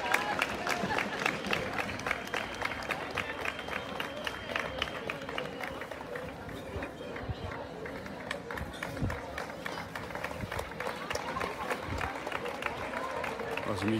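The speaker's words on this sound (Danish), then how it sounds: "og de klapper hinanden ud" Crowd of supporters outside a hospital applauding nurses as they come out in groups, sustained rhythmic clapping at a moderate distance with voices talking over it throughout.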